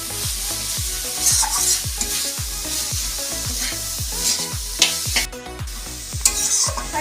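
Cabbage sizzles in a hot pan for a sabzi made without onion or garlic, with a spoon scraping and stirring in a regular rhythm of strokes over a continuous frying hiss, loud and close.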